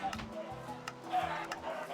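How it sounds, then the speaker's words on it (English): Chickens cluck faintly in an automatic chicken farm in Minecraft Bedrock, where the eggs drop into hoppers. Short, soft clucks are scattered across the clip, with a few light clicks between them. "And now we already have over a stack of chicken."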